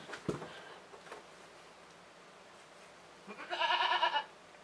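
A goat on a wooden deck gives a single short, fairly close bleat near the end, after faint background noise and a few soft knocks.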